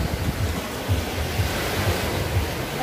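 Sea waves at a beach, a steady wash of surf with soft rhythmic swells rolling in about twice a second under light wind, no talking.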